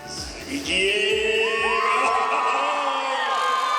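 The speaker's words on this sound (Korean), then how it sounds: "경기장 밖까지 울려 퍼지는 함성 소리." A large crowd in a packed arena in Aguascalientes, Mexico, roars and cheers loudly, with whoops and shouts swelling into a sustained wall of voices.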